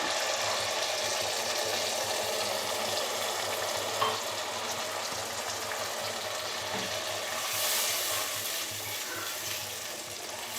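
Masala for restaurant-style biryani fries in a pot after a cup of liquid milk is poured in, producing a dense, continuous sizzling hiss, close and steady, with no talking.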